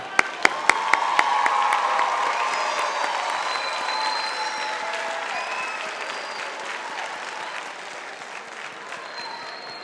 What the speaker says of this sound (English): Let's give a round of applause one more time.